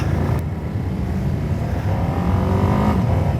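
A Ducati Panigale V2S motorcycle engine runs loud and close, a deep, steady rumbling drone with slight rises in pitch as it revs, no speech.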